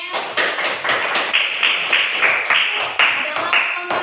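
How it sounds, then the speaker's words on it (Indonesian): Classroom students clap for a classmate named Amel, a few hands giving quick, uneven, close-up claps in bursts, with some faint voices mixed in. "Oke, tepuk tangan untuk Amel"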